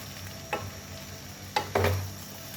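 A spoon stirs potatoes and okra sizzling in a pan with red chili powder. Three brief scraping strokes stand out over a steady, soft background sizzle, with no talking.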